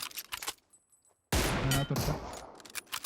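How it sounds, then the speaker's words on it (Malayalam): A UMP submachine gun fires at long range in a video game, with a dense burst of rapid shots lasting over a second after a quiet gap, preceded by faint scattered reports. "UMP വെച്ച് ലോങ് റേഞ്ച് അടിക്കുന്നു"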